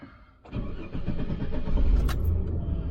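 A Chevy van's engine cranks and catches after a short quiet moment, then settles into a steady idle rumble close by.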